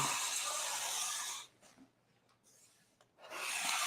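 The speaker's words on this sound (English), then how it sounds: "this is how you get like a really nice scraped finish" A blade rasps across a salvaged butcher block wood tabletop in a long, steady scraping stroke, pauses briefly, then starts scraping again.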